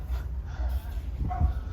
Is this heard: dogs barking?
yes